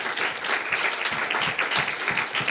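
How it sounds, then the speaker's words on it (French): Audience applause at a regional business-school sales competition final, a dense, loud, steady clapping from a crowd that continues throughout without pause. "On peut les applaudir encore."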